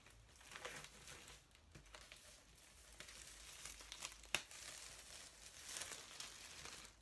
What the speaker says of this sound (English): we're unwrapping